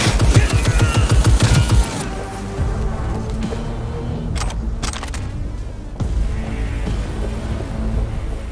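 Rapid automatic gunfire rattles in close, loud bursts during a Cyberpunk 2077 firefight. After about two seconds it drops away into a quieter, rumbling combat ambience with scattered clanks and thuds.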